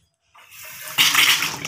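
Water starts running from a newly installed tap over a pedestal lavatory sink, first a soft trickle, then a sudden loud, steady gush splashing into the basin close by, with no talking.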